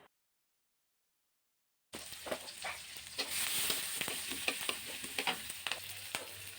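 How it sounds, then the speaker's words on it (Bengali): Chopped onion and green chili hit hot oil in a wok with a sudden loud sizzle after a moment of silence, then keep frying with steady crackling and occasional pops, close and alone. "তেল গরম হয়ে গেছে। এখন দিয়ে দিলাম পেঁয়াজ এবং কাঁচামরিচ কুচি।"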